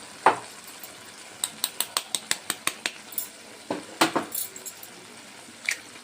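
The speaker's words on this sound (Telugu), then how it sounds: "ఎగ్స్ని ఇలా బీట్ చేసి వేసుకుందాం" Eggs being beaten with a spoon in a bowl, a quick run of light clinking taps against the bowl side, with a few louder knocks before and after.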